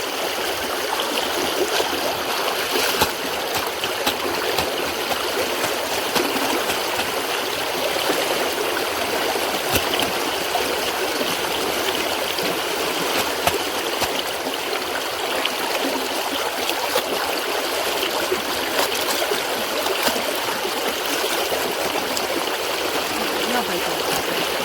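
A river flows in a steady, gentle rush of moving water heard nearby, with a few faint taps and splashes over the constant current.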